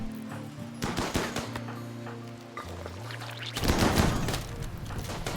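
Gunfire in the RimWorld video game: bursts of rapid machine-gun style shots with thumping impacts, loud and dense, swelling in intensity toward the end, with no talk.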